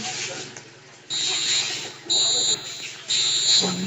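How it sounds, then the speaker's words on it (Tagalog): Repeated electronic fire alarm beeps in short bursts over a low hum, from a Roblox video game, with voices talking underneath. "Fire alarm."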